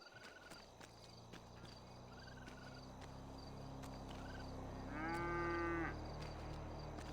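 A cow moos in GTA V, one low drawn-out call near the end over a steady engine-like hum, with faint cricket or frog chirps in the background and no talk.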